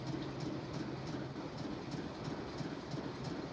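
A train runs steadily in a Nancy Drew video game set on a last train to Blue Moon Canyon, a continuous rumble with clickety-clack rhythm and no talk.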